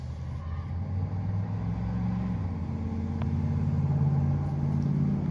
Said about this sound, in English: that's the garbage truck down the street.